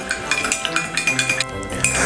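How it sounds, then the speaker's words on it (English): A spoon stirs honey and squeezed lemon into a Christmas sherry hot toddy, giving a quick run of rhythmic clinks against the glass or mug, close and fairly loud, with no talking. "So give that a good stir."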